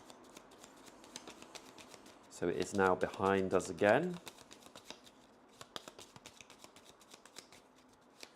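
A deck of game cards for the board game Legacy of Yu is riffled and shuffled in a dense burst of crisp rapid flicks, with someone talking before and after over light tapping.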